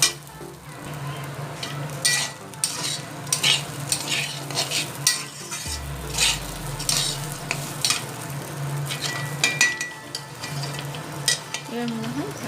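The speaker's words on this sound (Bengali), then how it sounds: "খুব ভালো করে ভেজে নিতে হবে যতক্ষণ জলটা না শুকোচ্ছে" Fish head for a Bengali muri ghonto frying in a pan, with a steady soft sizzle and repeated scraping, stirring strokes of a spatula against the pan, close up and without talk.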